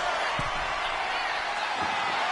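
An indoor wrestling audience roars and chants for tables in a continuous, broad wall of crowd noise, with a couple of low thumps breaking through.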